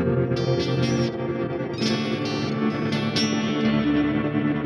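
A Walrus Audio Fable soundscape pedal set to program 1 with the tone around noon, processing an electric guitar into a warm, bubbly, echoing wash with reverb and chorus shimmer, sustained and loud throughout without any talk.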